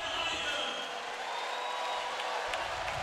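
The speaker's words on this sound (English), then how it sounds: "You can tell the crowd is super excited." Excited crowd at the 2015 SLS World Championship skateboarding contest in Chicago, with steady cheering and whooping throughout as the hometown skater rides, a broad continuous roar with a few sharper shouts.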